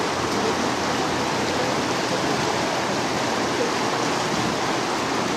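Clear stream water flowing steadily outdoors behind a house, a dense, continuous rushing wash like a small waterfall, loud and close, with no talking.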